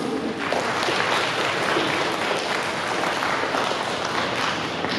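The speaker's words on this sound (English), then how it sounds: "So a big round of applause for all teachers." A large audience applauds for teachers at an education event, dense, steady clapping filling the whole clip at close range with no break.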